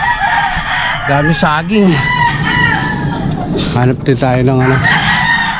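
Many chickens and tethered roosters on a crowded farm crow and cluck loudly nearby, with several overlapping crows rising and falling while someone talks in Filipino underneath.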